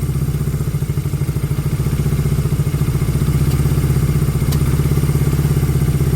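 A Honda CB200 motorcycle engine with new piston rings idles steadily at close range, a continuous low throbbing rumble with faint mechanical clatter and no voices.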